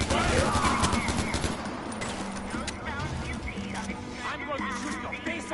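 Rapid gunfire rattles in a PS4 video game, with dense bursts early on that give way to scattered shots, mixed with game effects and voices.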